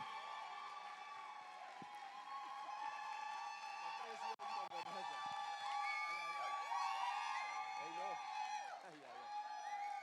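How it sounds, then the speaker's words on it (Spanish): An audience at a live Spanish-language event applauds and cheers for a speaker arriving on stage, a steady dense roar of clapping with whoops and shouts throughout, broad and sustained over the whole stretch. "recibamos con un fuertísimo aplauso a Juan Esteban Orrego."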